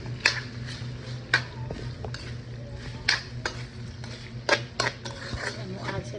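Utensil scraping and clinking against a pan while Bicol Express chili paste is mixed, a run of sharp close metallic taps and scrapes over a low steady hum.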